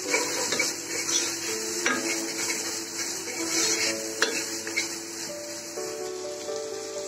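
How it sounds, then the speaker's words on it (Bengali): Small prawns frying in a pan for a spinach and lentil dish, a steady close sizzle with a spatula stirring and scraping the pan now and then. No one speaks. "চিংড়ি মাছ গুলো একটু ভালো করে ভেজে নেব।"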